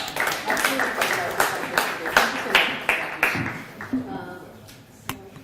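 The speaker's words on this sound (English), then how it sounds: "Please, a round of applause for our." Scattered hand claps from a conference audience at a chamber of commerce event, a steady series of sharp, fairly close claps that thin out and fade after a few seconds.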